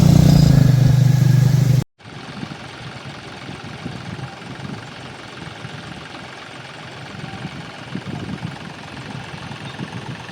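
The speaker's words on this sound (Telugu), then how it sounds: "ఇప్పుడు మీరు చూస్తారు అది ట్రాక్టర్ ఉంది." A tractor engine idles on a beach in a steady low, clattering drone. It is close and continuous, with a louder burst of different noise before a brief cut near the start.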